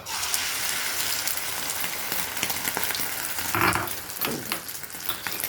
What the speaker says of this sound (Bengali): ডিমের অমলেট করব